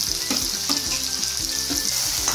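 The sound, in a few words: onions frying with ginger-garlic paste and tomatoes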